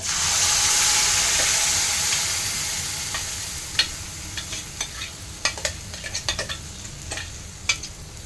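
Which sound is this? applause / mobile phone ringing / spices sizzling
spices sizzling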